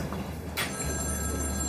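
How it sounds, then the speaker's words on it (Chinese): A telephone rings once in a quiet indoor setting, a short bright electronic ring standing alone against a low steady background hum. "电话。"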